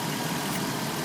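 Car engine idling without its thermostat during a K&W head gasket repair test, a steady, loud, even hum with no talk over it.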